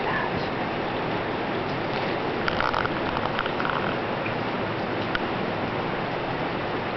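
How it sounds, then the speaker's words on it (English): Steady rain falls outdoors at a Chihuahuan Desert nature center and botanical garden, a continuous broadband patter with a few brighter drip hits, moderately loud and unbroken throughout. "we definitely have rain."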